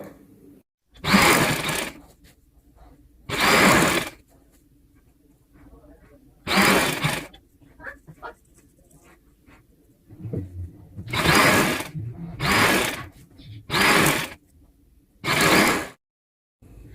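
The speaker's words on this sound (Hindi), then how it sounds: "सिलाई स्टार्ट करते हैं।" A sewing machine stitches layered sharara fabric in a series of loud, close bursts of rapid whirring, each a second or two long, separated by pauses with faint background noise and no talking.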